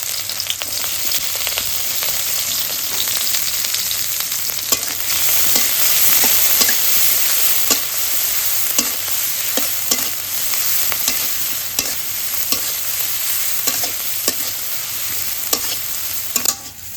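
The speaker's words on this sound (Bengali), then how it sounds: "এখন বাইম মাছ রান্না করব, কাঁচা মরিচ আর পেঁয়াজ দিয়ে দিই" Baim eel fish frying with green chillies and onion over a village fire, loud continuous crackling sizzle with a steady hiss and frequent small pops and stirring scrapes, close up and without talk throughout.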